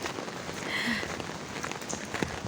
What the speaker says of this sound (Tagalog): Raining Tuesday.